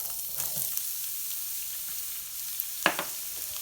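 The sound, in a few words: fennel poured into hot oil and frying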